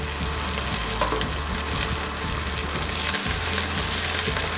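Garlic, basil and oregano fry in warm olive oil for homemade pizza sauce, a loud, dense crackling sizzle right up close, with steady stirring scrapes and no voices.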